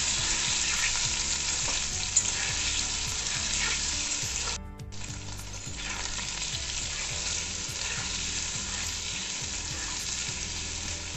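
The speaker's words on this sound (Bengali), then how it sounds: "পনিরগুলো আমি একটু ভেজে নেব।" Paneer cubes frying in a pan of hot oil left from frying potatoes, giving a loud, continuous close-up sizzle that briefly dips once before carrying on steadily, with no talking.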